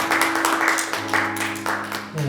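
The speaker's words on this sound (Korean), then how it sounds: "오늘도 우리 하나님께 영광의 박수 올려드리겠습니다." A church congregation at a Sunday worship service in Calgary applauds, a steady spread of clapping layered over a sustained organ or keyboard tone, with no speech on top.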